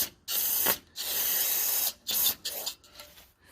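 Spray cleaner blasted into a car fuel line in bursts: several loud hissing sprays of varying length, separated by brief pauses, with close, sharp onsets.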